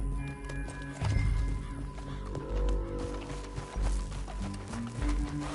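Horse hooves clip-clop in steady rhythm on open ground in Red Dead Redemption 2, a running gait with occasional heavier thuds, joined by brief whinnies and faint background sounds.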